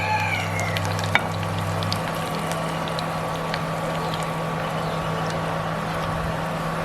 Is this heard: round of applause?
no